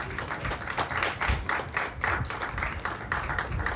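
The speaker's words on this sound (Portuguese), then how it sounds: "eu quero pedir uma salva de palmas aqui aos nossos painelistas" Applause for the panelists at a Portuguese-language mental health and wellbeing talk, a steady dense patter of many hands clapping throughout at moderate level, with no voices standing out.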